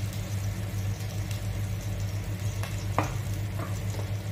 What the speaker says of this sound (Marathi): सो न्हू मसाले बरे भाजून करून घेया.